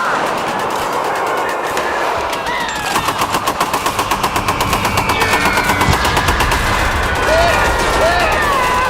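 Warfare gunfire dominated by rapid machine gun bursts, a dense stream of loud repeated shots over a roaring battle backdrop, with a voice speaking over it and occasional whistling tones.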